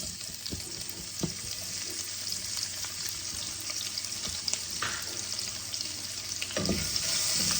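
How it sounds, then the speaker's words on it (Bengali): Chopped onions frying in hot oil in a pan, giving a steady close sizzle with occasional stirring scrapes and no talk. "ভালো করে পেঁয়াজগুলোকে ভেজে নেব"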